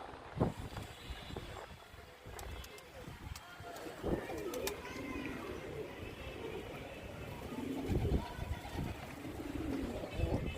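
Pigeons cooing and fluttering around a rooftop loft while being fed roti, close and continuous, with someone talking over them and some wind noise.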